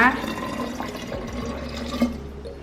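Water is poured into batter for Thai coconut pudding (khanom khrok) made with banana, a brief close trickle and splash under someone speaking.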